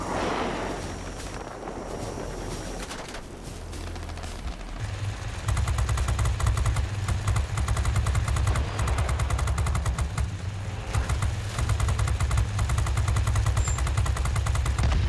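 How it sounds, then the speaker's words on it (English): Machine guns on an Ar 67 plane fire in a video game as a dense, rapid rattle that starts after a few seconds of engine drone and runs continuously and loudly to the end, with no talking. "The gun feels a little bit slow to shoot, but it still does it."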